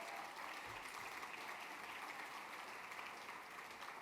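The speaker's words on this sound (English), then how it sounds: "Massive round of applause for those two very talented ladies." Steady applause from an audience after two performers leave the stage at a show, a dense wash of clapping that holds at even strength throughout.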